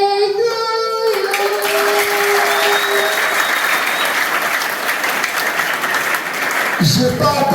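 Applause from the audience at a girls' reporters club first-anniversary celebration swells in after the tail of a sung melody, holding steady and loud, with a voice cutting in at the very end.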